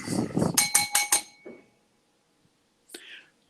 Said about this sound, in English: All right, JB, you rang the bell